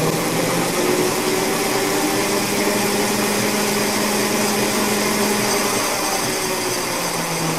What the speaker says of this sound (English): The generator is smooth, quiet. The only thing you're hearing is a chain in the background.